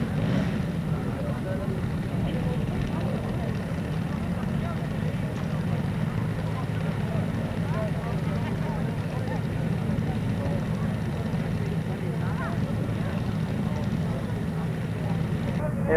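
Engines of large radio-controlled model aircraft such as a Catalina and a Whitley bomber run steadily at a large model show, a continuous drone heard at a distance with crowd chatter and talk over it throughout.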